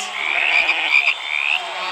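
A crowd at a live podcast show imitates frog croaks with their voices, a loud, dense, sustained chorus of throaty croaking from many people at once, close and continuous without pause.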